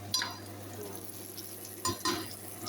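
Quiet sizzle of eggplant cooking in turmeric-tinted oil in a pan, with a few scraping stirs of a utensil standing out briefly against the soft background frying.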